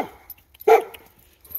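A pack of dogs, pitbulls, a German Shepherd, a Min Pin and a Yorkie, plays together, with one sharp, loud close bark after a short whine, then quiet.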